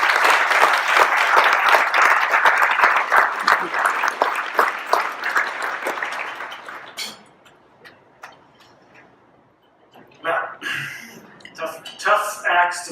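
Audience applause welcoming a speaker to the podium at a formal event: dense clapping from a hall full of people for about seven seconds, fading out, followed by the speaker beginning to talk.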